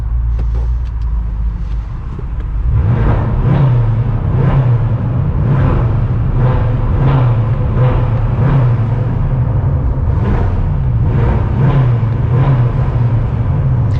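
A stock 560 bhp BMW M5 engine idles nearby, then is revved while stationary, repeatedly in short, rhythmic bursts, each rise and fall of the roar coming loud and close.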